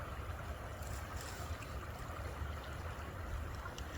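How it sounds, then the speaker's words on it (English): Steady broadband rush of a stream running over rough rapids around dirt banks beside a covered bridge in Georgia, continuous and fairly close with no talking. "it's meandering around some dirt. So it's making that rapids noise."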